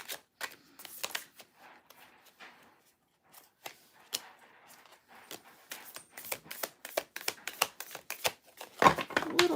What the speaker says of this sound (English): It's still a little chunky in the overhand shuffle